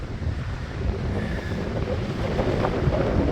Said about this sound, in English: The wind will rip your ears off your head up here.